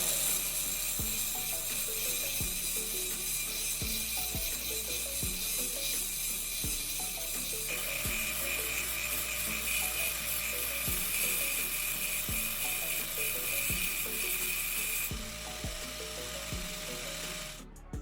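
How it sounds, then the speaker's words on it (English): Angle grinder clamped in a vise grinding the end of a threaded steel rod to a sharp point: a steady, close, high-pitched motor whine with a regular rhythmic pulsing that runs continuously throughout, with no talking. "I will secure the angle grinder in a vise and grind one end of the rod to a sharp point."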